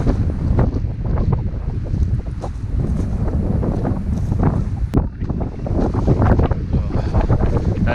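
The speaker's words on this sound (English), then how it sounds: "This wind is unbearable." Strong winter wind in the Rocky Mountains buffets the microphone in a constant loud roar with gusting surges, heard close and alone with no talking.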